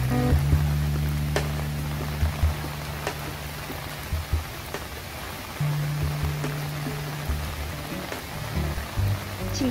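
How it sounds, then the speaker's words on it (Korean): Rain falls through a forest as a steady, even hiss with scattered drop taps, joined by a low, sustained hum in the background. "비가 내리고 있어요."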